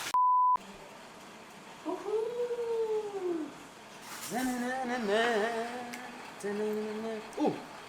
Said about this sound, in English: There's a symphony of frogs happening here.